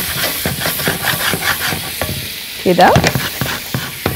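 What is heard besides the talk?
stirring onions frying in a pan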